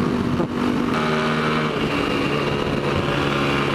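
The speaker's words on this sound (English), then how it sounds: "That was a hard engine brake." Motorcycle engine braking hard, a loud close engine drone that holds steady with a falling pitch as the bike slows, along with wind rush and no speech.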